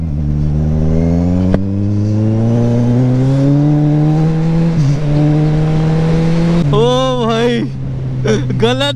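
A Kawasaki H2 motorcycle fitted with a louder modified exhaust revs up close, its engine tone climbing steadily, then snapping through sharp, rapid throttle blips near the end, very loud and dominant with a voice faintly present.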